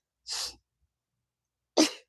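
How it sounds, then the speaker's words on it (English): Two sharp sneezes, the first soft and airy, the second louder and more abrupt, separated by over a second of silence. "I gotta sneeze"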